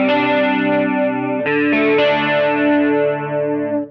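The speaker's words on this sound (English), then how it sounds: "along with a little chorus for this arpeggiated part" Electric guitar, a Charvel Pro-Mod DK24 on its bridge single-coil setting, picks out arpeggiated chords with a shimmering chorus effect, notes ringing into one another, played alone with no talking.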